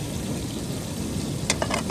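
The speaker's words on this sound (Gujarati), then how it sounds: "હવે આ બધું આપણે હલાવવાનું છે કલર બદલી જાય" Spiced vegetables fry in a pan while being stirred with a ladle for an outdoor seaside curry; a steady moderate sizzle runs throughout, broken near the end by a few quick scraping strokes of the spoon.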